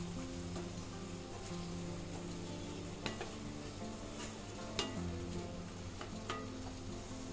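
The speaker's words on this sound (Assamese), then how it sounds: "ইয়াতে দিলোঁ অলপ গৰম মছলা, দি মই গোটেইখিনি ভালদৰে লৰাই দিছোঁ।" Curry being stirred in a pot after garam masala goes in, a steady soft sizzle with a few scraping knocks of the spoon, moderately quiet, no talking.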